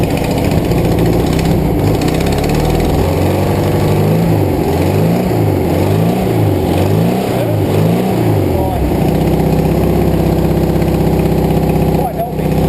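A VW bus engine runs steadily and loud, with a rough, irregular cracking in its rhythm, revving briefly partway through before settling back to a constant idle.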